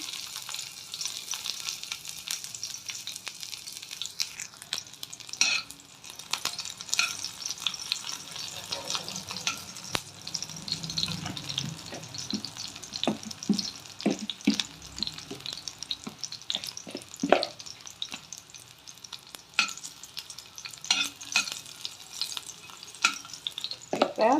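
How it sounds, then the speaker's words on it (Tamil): Crushed garlic dropped into hot oil in a pan for prawn fry, giving a steady close sizzle and crackle with intermittent sharp pops and spoon scrapes throughout. "எண்ணெய் நல்லா சூடாயிடுச்சு இப்போ தட்டி வச்சுருக்க பூண்டை இதில் சேர்த்துக்கலாம்"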